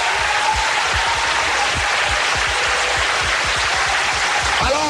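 A church congregation claps steadily and loudly, a dense, continuous round of applause with a few sharper individual claps standing out.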